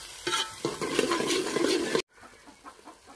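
Kolhapuri spice paste sizzles loudly in hot oil with stirring scrapes for about two seconds, then cuts off and gives way to quieter, softer sizzling.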